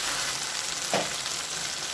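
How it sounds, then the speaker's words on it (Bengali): Ginger garlic paste masala fries in a pan for a crab curry, a steady dense sizzle with one brief stirring scrape near the middle, close and continuous. "এবার মশলাটা ভালো করে কষিয়ে নেব।"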